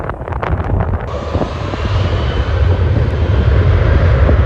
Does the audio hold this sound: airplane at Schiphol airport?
yes